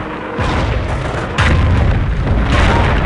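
Heavy explosions from enemy fire in a war video game campaign, deep rumbling booms arriving in two loud successive blasts that sustain a dense roar throughout.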